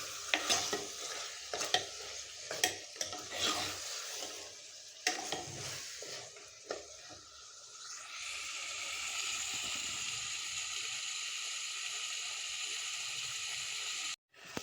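Potatoes and beef pieces for aloo gosht being stirred and scraped in a pot with several sharp clanks, followed by a steady loud sizzle of frying that continues unbroken until an abrupt cut.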